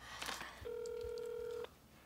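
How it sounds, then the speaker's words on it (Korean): A telephone rings out unanswered in a Korean TV drama, a steady electronic ring tone held for about a second, loud and close, with muffled background sound before it and nothing after. "황검사 아직도 전화 안 받아"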